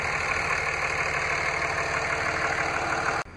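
A 5.9-liter Cummins 24-valve direct-injection turbo diesel idles in a 2004 Dodge Ram 3500 four-wheel-drive dually pickup, with a steady close rumbling clatter and no voices, cut off abruptly at the end.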